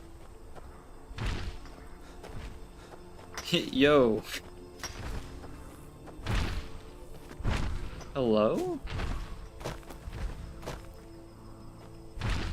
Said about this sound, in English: I'm hearing some big footsteps.